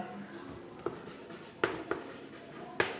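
Chalk or marker strokes on a board during a maths lecture on improper integrals, a few short scratchy taps spaced irregularly over a steady room hiss, close and faint, with no talking.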